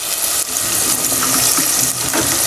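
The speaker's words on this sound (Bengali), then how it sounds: "আর আজকে এখন দেখাচ্ছি হচ্ছে মাছ ভুনা" Fish bhuna frying in a clay pot, a dense, loud, hissing sizzle that stays steady throughout with a few small bubbling pops, close up with no voices.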